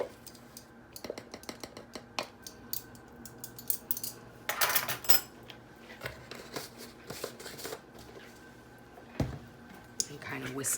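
Garlic powder and seasonings whisked in a bowl, quick clinking and scraping taps of a whisk or utensil against the bowl, irregular and close, with bursts of louder rattling and a person talking between strokes.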